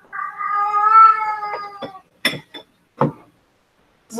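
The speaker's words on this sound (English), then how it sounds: "Y'all hear my kitty cat?" A domestic cat lets out a long, loud, drawn-out meow close by, followed by a few short sharp clinks or taps in a quiet indoor room.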